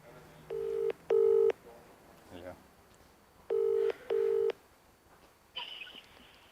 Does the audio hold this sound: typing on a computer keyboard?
no